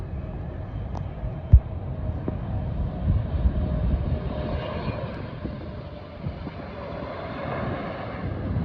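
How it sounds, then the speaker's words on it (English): Qatar Airways Boeing 777 freighter at Prague airport, its engines giving a steady, broad roar that holds throughout with wind buffeting the microphone and one sharp knock near the start. "I caught this monster, the Qatar 777 freighter that I was waiting for"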